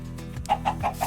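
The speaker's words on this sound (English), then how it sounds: "What is with this chicken?" A chicken near a small village ruin clucks in a short series of four close, moderately loud bursts with no talk over it.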